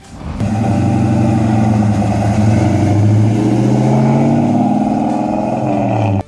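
A 1966 Plymouth Satellite 426 Hemi muscle car engine runs loud and close, holding a steady, deep, throaty rumble with a slowly rising pitch for several seconds.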